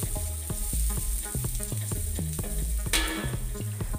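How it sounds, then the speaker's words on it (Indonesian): Spring onion stalks stir-fried in a hot pan with a steady loud sizzle and a regular run of knocking, scraping strokes from the utensil, close up and alone. "Lalu masukkan potongan daun bawang bagian batangnya. Lanjutkanlah menumis."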